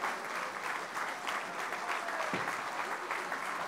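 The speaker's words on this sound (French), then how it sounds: "Allez, on peut les applaudir encore plus fort." A crowd applauds the German team at the opening ceremony of the 30th World Aerobatic Championships (Unlimited) in Châteauroux, with steady, dense clapping across the whole stretch and faint background voices.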